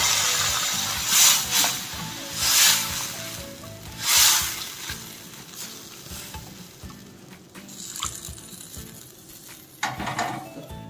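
Water is poured into a hot pan of egg, mango and dry fish curry, setting off three loud steamy hissing bursts amid steady sizzling and the scrape of stirring.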